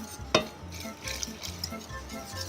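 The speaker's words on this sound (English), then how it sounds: "Whisk really well." A whisk scrapes and stirs sauce in a pot, soft rhythmic swishing with an occasional sharp clink against the metal, close up and without talk.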